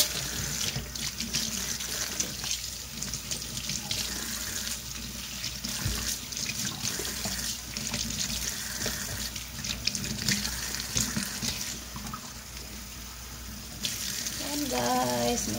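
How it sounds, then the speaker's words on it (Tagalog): Vegetables and eggs are washed in a strainer under a running kitchen tap, a steady close hiss of flowing water with splashing throughout and brief clinks near the end. "Sa paghugas natin sa ating mga gulay, gagamitin natin ang ating mahigwagang salaan o strainer."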